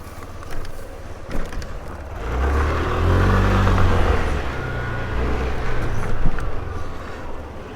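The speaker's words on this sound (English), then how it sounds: "let's see what Tbilisi traffic has to offer" City street traffic in Tbilisi, Georgia, heard from a moving car: a vehicle rumbles close by and swells loudly mid-way before fading, with scattered knocks and road noise around it.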